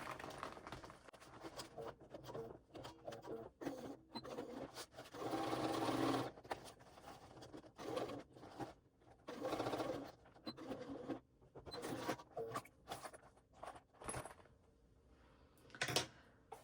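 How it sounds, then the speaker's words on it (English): Sewing machine basting a fabric panel for a waist pack, running in short bursts of rapid stitching with pauses between, close and moderately loud, with no talking. "I'm going to baste that in place too"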